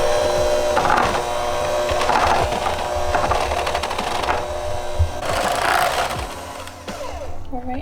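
Powdered sugar and vanilla being stirred into frosting with a mixer, a steady close whirring drone with rhythmic surges and a brief pause near the end.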